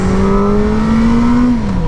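A new motorbike accelerates hard in first gear, its engine note climbing loud and close for about two seconds before a brief pitch drop at the shift.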